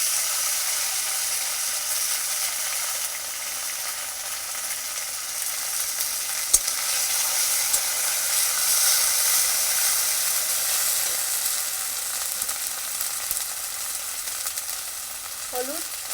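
Ground spice paste sizzles in hot oil with dried red chilli and cumin seeds, a steady dense frying hiss throughout with faint scraping of a stirring spoon and one sharp clack.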